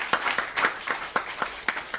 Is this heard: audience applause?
yes